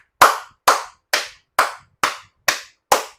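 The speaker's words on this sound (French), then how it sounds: "Je les applaudis encore." Seven sharp hand claps in applause for Mali's leaders, evenly spaced at a slow steady pace, close and crisp with silence between each clap.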